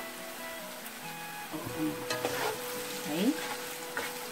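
Onions go into a hot pan for an Italian ragu meat sauce, setting off a continuous sizzle with scraping and stirring noises, while a voice speaks briefly.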